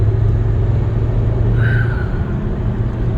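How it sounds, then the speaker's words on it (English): A 2011 Volvo C30 R with manual gearbox accelerating in fifth gear on a highway, a constant low engine and road drone from inside the car with a short higher whine partway through. "I forgot I didn't set the nav to the foot down 5th gear, no downshifting."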